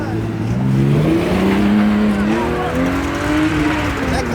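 A stock Toyota Supra accelerates past with a loud, sustained engine note that climbs steadily in pitch over several seconds, close and strong, while a crowd cheers and talks over it.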